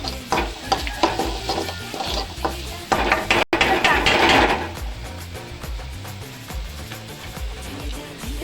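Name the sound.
frying onions and pasta ingredients in a pan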